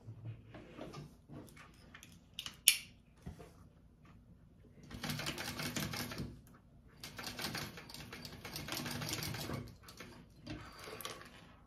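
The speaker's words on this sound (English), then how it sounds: "you're gonna sew that, top stitch that" A sewing machine top stitches a fabric bag at zipper tabs, running in two sustained bursts of rapid mechanical whirring with quieter handling noises and a sharp click between them.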